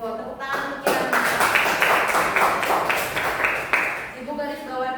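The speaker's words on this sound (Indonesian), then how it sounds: "Ya, tuh tepuk tangan untuk Kirana." A classroom of students claps for a classmate in a short, dense burst of applause lasting a few seconds, with a teacher's voice just before and after it.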